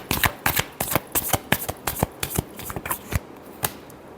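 Tarot cards are shuffled up close, a quick series of crisp, papery flutters and slaps in short uneven bursts, heard alone without talk.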